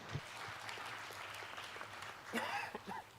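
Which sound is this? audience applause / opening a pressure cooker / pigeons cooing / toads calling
audience applause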